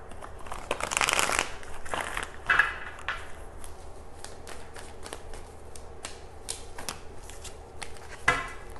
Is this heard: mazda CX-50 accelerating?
no